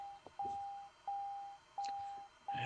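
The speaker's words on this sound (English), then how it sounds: "stop that incessant beeping" A steady electronic tone beeps repeatedly in long, evenly spaced pulses, each lasting about half a second, with soft clicks and faint background noise between.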